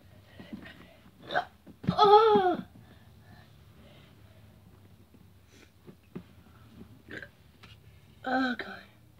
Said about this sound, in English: I'm burping because it's so spicy.